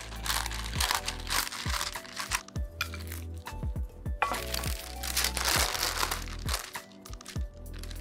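Pie crust dough being rolled out between parchment sheets with a rolling pin, giving repeated crinkling and crackling paper sounds in uneven strokes, close and fairly quiet.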